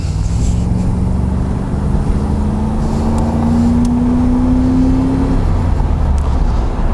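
A Chevrolet Camaro IROC-Z engine pulls hard under acceleration, a steady low drone whose pitch climbs smoothly for about five seconds, loud and close over road noise.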